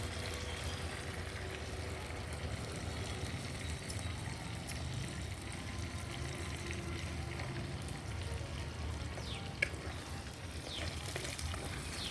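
Cumin seeds frying in oil for a long beans curry, a soft, steady sizzle heard close up and held evenly throughout, with no voices.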